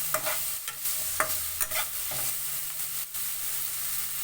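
Minced pork stir-fries in a pan for a tomato-sauce spaghetti, with a soft steady sizzle broken by several sharp spatula scrapes and stirs, close up and without talk.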